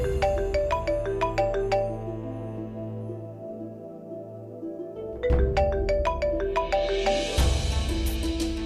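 A mobile phone ringtone plays a bright, repeating melodic tune with a steady beat, loud and clear, and no one speaking over it.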